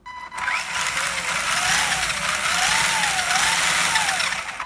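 A 1988 Tamiya Avante radio-controlled car upgraded to 2.4 GHz, its electric motor whining at high speed with a wavering pitch that rises and falls, close and steady with a gritty drivetrain rasp underneath and no talking.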